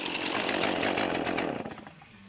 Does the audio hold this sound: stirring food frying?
no